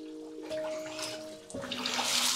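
Water splashes and pours over a soapy body during a bath, faint and close, with a tonal hum running underneath and the flow growing stronger toward the end.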